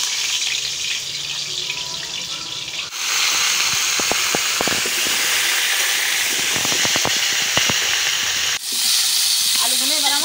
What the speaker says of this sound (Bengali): আলুগুলো এবার আমার ভাজা হয়ে গেছে